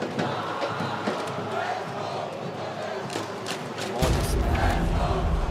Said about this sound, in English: Crowd is electric, man.